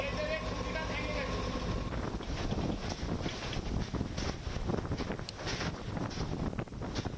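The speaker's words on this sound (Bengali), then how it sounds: "ঝোড়ো হাওয়া রয়েছে বৃষ্টি পড়ছে দীঘাতে" Stormy wind and rain from Cyclone Fani lash the seaside town of Digha, a loud, unbroken roar of gusting wind buffeting the microphone for the whole stretch, with a voice faintly present beneath it.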